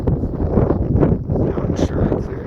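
Strong winter wind buffets the microphone outdoors during van camping in Alberta, a loud, continuous low rumble with gusty surges and no clear voices.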